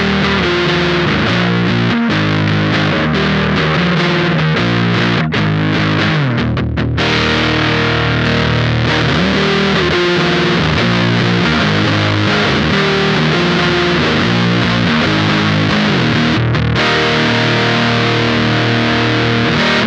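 Electric guitar played through a Champion Leccy Dunsh fuzz pedal in normal mode, a dense, distorted riff with chords and bends sustained for about twenty seconds, loud and alone.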